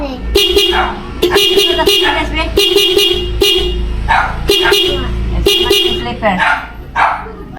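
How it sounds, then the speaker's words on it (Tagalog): Loud, repeated honking from a Hella compact motorcycle horn, several sharp blasts in quick succession with brief gaps, close by, with talking mixed in. "ito po yung tunog ng Hella na compact horn natin"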